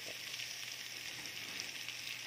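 Butter and a little oil heat in a smoky pan for garlic butter seafood, making a soft, even sizzle that runs without a break and sits fairly faint and close, with no talking.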